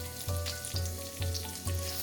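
A small onion frying with salt in a pan sizzles steadily, with four regular pulses of stirring scraping through the hiss, close and fairly quiet.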